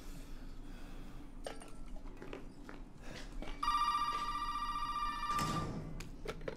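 A telephone rings inside the survival horror game Resident Evil 7, a sustained electronic bell tone starting midway and cutting off after about two seconds over low ambient game noise.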